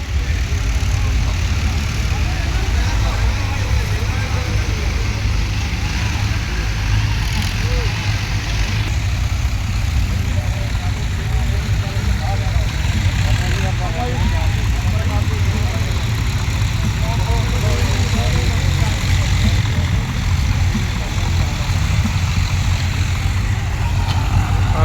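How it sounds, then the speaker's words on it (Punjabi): Several tractors idle steadily while flood-damaged farm fields are cleared, a loud, continuous low rumble that stays close for the whole stretch. "ਬਾਬਾ ਜੀ ਹੁਣਾਂ ਨੇ ਟਰੈਕਟਰ ਘੱਲੇ ਨੇ"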